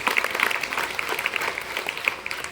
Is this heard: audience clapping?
yes